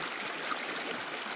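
Cold water flowing through a Carolina mountain creek, a steady broadband rush that stays even and unbroken throughout, close and fairly loud with no voices.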